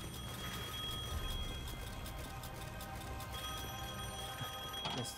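An old telephone rings in Devil May Cry 5 with a continuous metallic bell trill, fairly faint and steady, closing with a brief louder clatter at the end.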